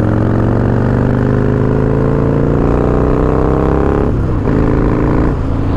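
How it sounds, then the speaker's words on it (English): A loud Harley-Davidson Springer motorcycle engine rumbles steadily up close, its pitch climbing gradually before dipping in quick revs near the end. "I love the sound of this bike."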